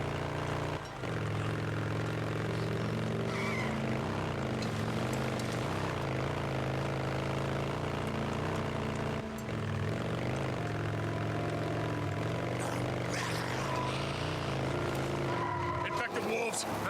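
A heavily upgraded motorcycle from the video game Days Gone roars steadily with a loud, jet-like engine drone that holds for the whole stretch, with brief dips around the one- and nine-second marks.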